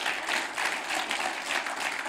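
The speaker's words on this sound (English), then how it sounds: "Let's give her a round of applause." Steady audience applause fills a hall, dense and continuous, honoring a newly introduced woman CEO of BP South Africa at a public event.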